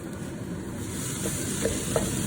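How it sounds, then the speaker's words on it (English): Onion and garlic sizzle in a pan before pork mince goes in, a steady close frying hiss with a couple of faint stirring taps near the end. No one talks. "we've ground off the onion and garlic together, and we're now going to add the pork"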